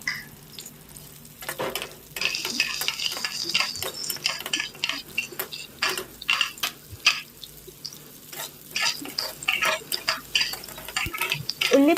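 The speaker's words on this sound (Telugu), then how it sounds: "అందులోకి ఇందాక కోసి పెట్టుకున్న ఉల్లిపాయలు వేసి బాగా వేయించండి." Chopped onions frying in a pan for paneer butter masala, with stirring scrapes and utensil clinks over a moderate sizzle; after a quiet start the frying grows busier and keeps going to the end.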